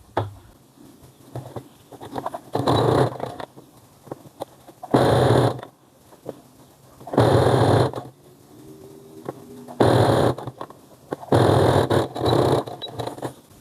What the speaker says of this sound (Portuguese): E vou passar uma costura na beiradinha pra gente fechar esses passadores